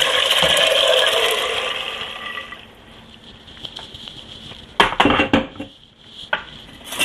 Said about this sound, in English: I'm going to add my beans and the liquid that they're sitting in.